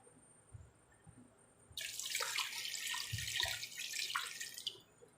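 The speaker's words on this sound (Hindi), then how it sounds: "इसमें आप पानी ऐड कर लेते हैं तकरीबन ½ kg" Water runs into a pressure cooker holding meat and salt, a close, steady splashing pour lasting a few seconds after some quiet kitchen knocks, then stopping abruptly.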